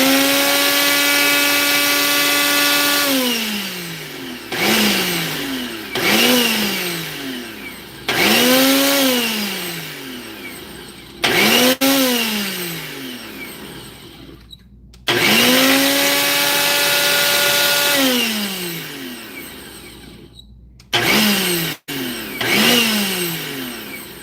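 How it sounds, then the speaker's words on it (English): A kitchen blender chops boiled, dried rosemary leaves in loud, close bursts, its motor whining up and dipping in pitch over and over, with short pauses between pulses and no talking. "I'm just gonna blend these rosemary leaves that I just cut"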